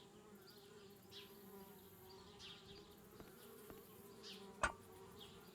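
Steady insect-like buzzing of bees in the adventure game Anna's Quest, a low drone holding throughout at a modest level, with a few faint clicks and one short louder tap near the end; no talking.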